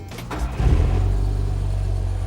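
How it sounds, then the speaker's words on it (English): An engine with twin carburetors cranks briefly and then catches, settling into a steady, close, loud idle after its idle screws are set. "with the idle screws set, we can now start the engine and start to balance everything up"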